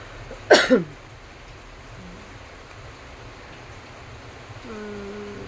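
A patient's single short cough near the start during a herbal steam inhalation, then quiet hiss like light rain, with a faint low hum coming in toward the end.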